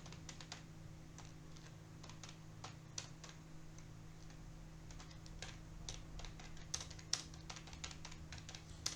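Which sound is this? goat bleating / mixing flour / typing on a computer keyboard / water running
typing on a computer keyboard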